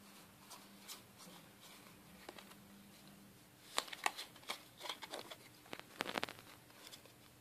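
Plastic clicks and rattles of a Rubik's cube being twisted and scrambled by hand, sparse at first and then quick bursts of turning, close and fairly quiet.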